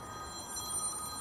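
A telephone ringing faintly in the background of a quiet room, a thin steady electronic ring over low noise, with no voices.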